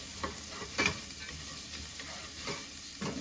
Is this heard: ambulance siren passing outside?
no